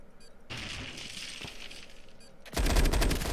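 Video game gunfire during a tournament match, a rapid automatic burst that bursts into a louder, denser volley near the end, with glass shattering as a window is shot out.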